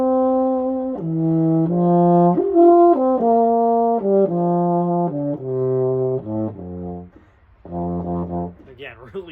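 A Meinl-Weston 451 euphonium plays a warm, close melodic line of sustained brass notes stepping down toward a low F, with short gaps between phrases and a brief breathy squeak at the end.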